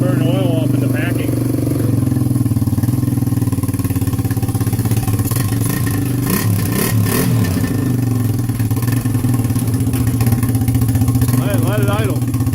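A rebuilt 1986 Tri-Z engine idles loudly and steadily close by with a continuous rattly drone, while people talk over it.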